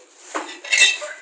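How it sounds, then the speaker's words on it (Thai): Two quick metallic clanks of a wok-style pan being set down on a stove, close and fairly loud, with a faint ringing afterward. "ต่อไปตั้งกระทะนะ"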